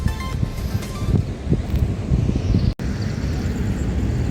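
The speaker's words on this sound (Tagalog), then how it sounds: "Makikita nyo yung alon, malalaki talaga." Large waves breaking at a beach in steady broadband surf, loud and continuous throughout with a brief dropout near the middle, mixed with wind noise on the microphone.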